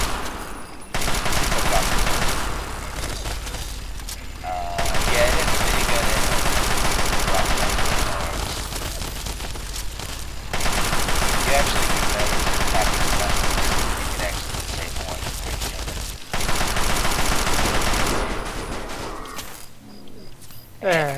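Sustained bursts of automatic gunfire in Fallout 3 during a fight with a sentry bot, dense and continuous in long stretches separated by brief pauses, with a voice heard in the mix.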